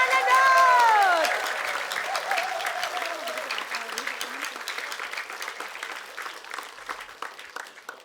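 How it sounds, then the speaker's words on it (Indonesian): Audience applause bursts out after a call to clap for a performer at a televised comedy show, with steady clapping across the room under a brief rising voice at the start. "Tepuk tangan dulu dong buat Mas Dodot."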